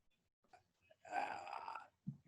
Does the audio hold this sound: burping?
yes